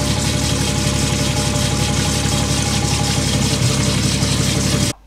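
A GM small-block engine with a couple of jammed, noisy lifters runs steadily at a close, even idle, its dense mechanical clatter continuous and loud for about five seconds before cutting off abruptly, with no talking.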